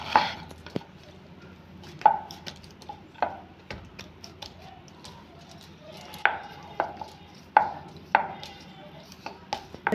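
Knife cutting thick rolled flour dough for goja on a board: sharp, irregular taps and clicks, close but fairly quiet, with no talking.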